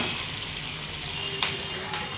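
Steady, close sizzling of spice masala frying in a pan for pea kachori, made with ginger, tomatoes, dry red chilies and green chilies, with a few sharper crackles and no talking.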